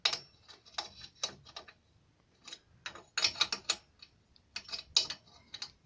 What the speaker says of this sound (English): So do them by hand as much as you can until they're tight.